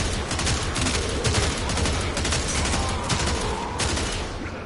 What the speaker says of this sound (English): Alright, time to use the gun.